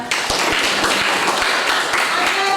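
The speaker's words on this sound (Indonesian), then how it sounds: "tepuk tangan untuk Faisal." Students in an Indonesian classroom clap together for a classmate, a loud, close, continuous burst of hand clapping with sharp individual claps standing out over the wash.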